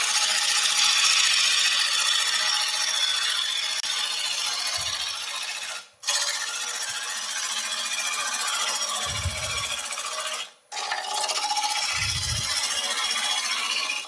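Steady, harsh scraping hiss of a gouge cutting a wooden platter spinning on a lathe, broken by two brief dropouts as the tool lifts, with low thumps from a knot coming around now and then.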